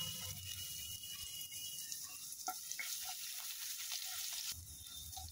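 Crushed garlic cloves and dried chilli frying in hot oil in a pan: a steady, close sizzle with occasional crackles and a few stirring clicks.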